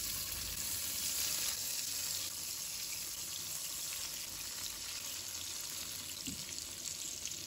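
Tofu pieces fry in salted oil in a pan with a soft, steady, hissing sizzle heard close but fairly quiet, with no voices.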